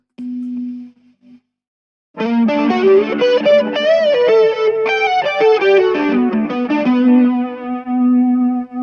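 An electric guitar through an overdrive pedal plays a loud, gritty overdriven melodic phrase after a brief held tone and pause, notes sustaining and ringing into a long final note.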